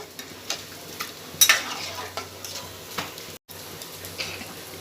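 Soft sizzling and bubbling from mutton curry boiling in a pan, with occasional light clinks and stirring taps at irregular intervals, close by and fairly quiet.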